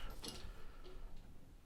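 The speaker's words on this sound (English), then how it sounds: "No, the timer is going." Faint, steady ticking of a kitchen timer close by, quiet and unhurried, with no voices.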